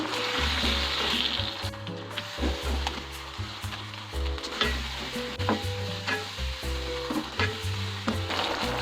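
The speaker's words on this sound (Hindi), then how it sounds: "अब यहाँ पर हम डाल देंगे चिकन जिसे हमने फ्राई करके रखा हुआ था, वो डाल देंगे और मिक्स कर लेंगे।" Fried chicken pieces stirred into a thick orange sauce in a pan, with steady close sizzling and repeated scraping, clattering stirring strokes throughout.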